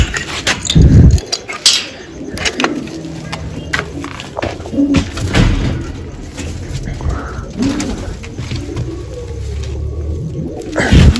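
Pigeons coo in a village loft, soft low throaty calls repeating close by over a busy background of rustling, fluttering and handling knocks, with occasional faint voices.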